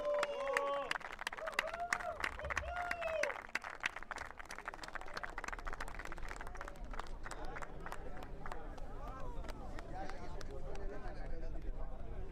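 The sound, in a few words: audience applause for the runners-up at the awards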